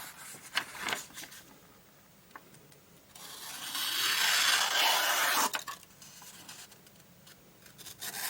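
A Morakniv Woodcarving 120 knife slices into wood during a sharpness test. A few short scrapes come first, then one long, loud, close rasping cut, then quieter scraping. No one speaks.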